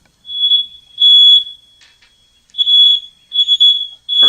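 Piercing long beeps from a kitchen smoke alarm tripped by oven smoke, repeating in a steady pattern close by, with a brief voice cutting in at the end.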